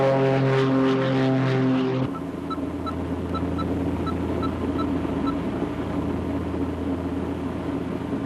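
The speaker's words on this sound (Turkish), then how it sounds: "Ya oğlum bu ne gürültü? Uçaktayım baba." Loud, steady airplane cabin drone with a low engine hum and a faint regular ticking, preceded by a brief tonal harmonic sound that cuts off abruptly, heard continuously without speech.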